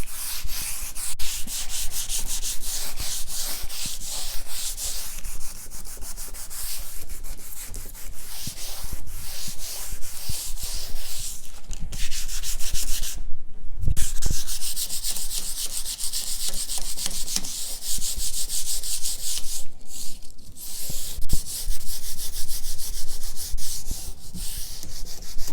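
Steady, continuous sanding rasp across a wooden coffee table top being smoothed for a rustic finish, close and dense for the full stretch, with only a brief dip in the middle.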